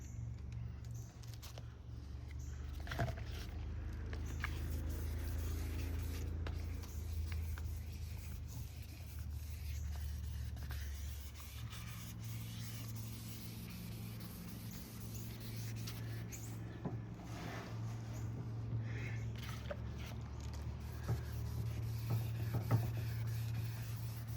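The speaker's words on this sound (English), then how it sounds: "this is what water sanding and blocking is all about" Steady wet rubbing and scraping of a sanding block over a surface, a continuous abrasive swish with occasional small knocks, fairly close.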